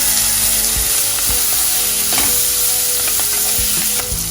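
French beans fry in hot oil with bay leaves, a cinnamon stick, asafoetida and cashews, giving a loud, steady, close sizzle, broken by occasional scraping knocks of a spoon stirring in the pan.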